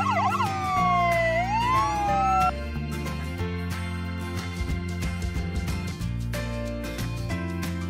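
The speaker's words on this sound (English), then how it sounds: "White ambulance." A toy ambulance siren on a white toy ambulance wails in quick rising and falling sweeps for a couple of seconds, then gives way to bright electronic tones and a steady buzz.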